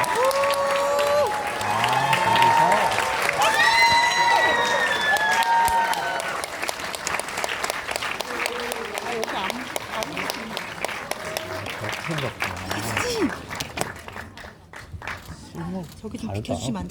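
An audience claps at a film premiere screening with the director and cast, a broad wash of applause with some cheering, while a host speaks over it.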